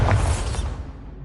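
The Bombarda blasting spell goes off in Hogwarts Legacy, a short, close whooshing burst that decays quickly into a fading rumble.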